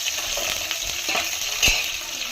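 Curry leaf and coriander stems frying in hot oil for rasam, a steady close sizzle with a few soft stirring bumps.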